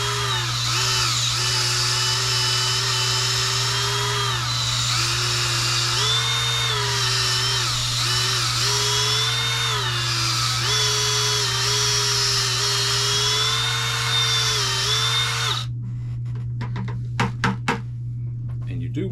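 Power drill spinning a reamer through cork to fit a fishing rod blank, a steady whining motor tone with shifting pitch as load changes, close and loud, stopping near the end followed by a few light knocks.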